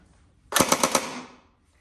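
A Tokyo Marui AA-12 electric airsoft shotgun fires one quick burst of about five rapid, evenly spaced mechanical clacks, close and loud, after a quiet lead-in.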